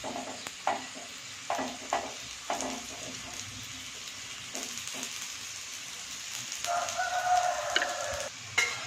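Sweet potato paniyaram made with maida fry in hot oil, a soft sizzle under repeated clinks and scrapes as they are turned, with a rooster crowing faintly in the background.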